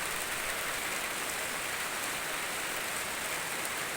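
Steady rain falls on a coffee garden, a dense even hiss holding constant throughout with no voices.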